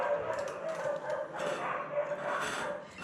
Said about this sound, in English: that's my ensemble of dogs going off their heads